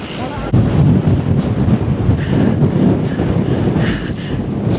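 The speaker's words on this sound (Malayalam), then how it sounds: "ഒടുക്കത്തെ കാറ്റും ഒടുക്കത്തെ തണുപ്പം" Strong wind blows across a cold, exposed hilltop, roaring and buffeting the microphone in a steady, loud rush for the whole stretch, with no clear speech over it.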